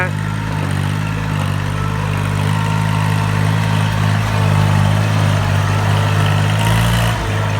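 A Kubota L3608 tractor fitted with a walking-tractor harrow runs through a flooded rice paddy, its engine giving a loud, steady, close drone with no talk.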